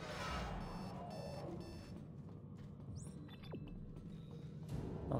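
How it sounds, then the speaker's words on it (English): An alarm rings steadily in the video game Dead Space 2, played modded. Its repeated high electronic beeping runs over a low ambient rumble, with a brief sweeping tone partway through and no talk. "The alarm is still ringing."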